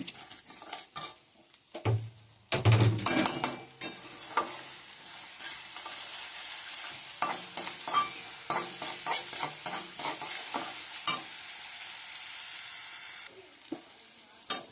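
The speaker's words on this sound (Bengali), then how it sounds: "মশলাটা কষে আসার পরে লবণ, হলুদ, শুকনো লঙ্কার গুঁড়ো সব দিয়ে দিলাম, ফের কষাতে হবে" Spice paste stir-fried in a pan with salt, turmeric and dried chili powder, a steady close sizzle broken by scraping spatula strokes and a few louder clanks early on, with no voices.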